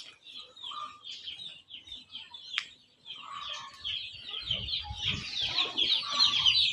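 Little chicks cheep in a continuous, high-pitched chorus that grows denser and louder toward the end.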